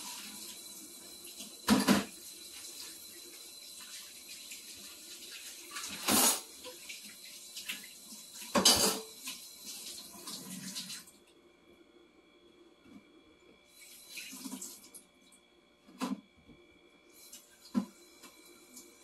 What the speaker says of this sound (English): I'm gonna wash dishes.